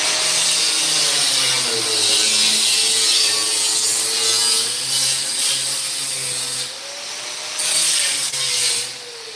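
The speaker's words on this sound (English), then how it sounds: "we're going to get my cutoff wheel here" A cutoff wheel cuts across a piece of metal, a steady, loud grinding whine with a wavering pitch that holds for several seconds, briefly easing partway through before picking up again.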